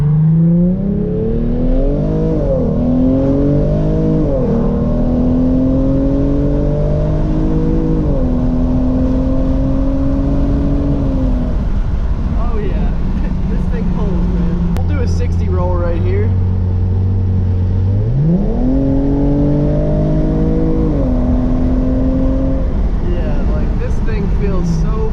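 A Hyundai Genesis Coupe 3.8 V6 with an ARK GRiP exhaust pulls hard through the gears in a rolling run from 60, its engine note climbing in repeated rising sweeps from inside the car, with a voice speaking over it at times.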